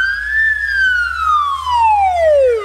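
An ambulance siren sounds loud and close, its single wailing tone sweeping slowly up and then down over a couple of seconds, alone over a faint low rumble.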